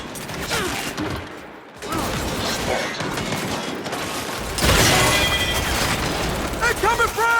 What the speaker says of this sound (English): Incoming frag! Incoming frag!